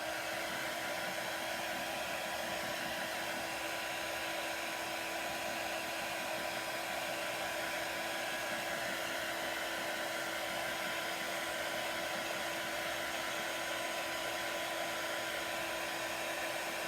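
A hair dryer runs steadily and close throughout, a continuous whirring blow drying a sunflower paper craft project, with no talking.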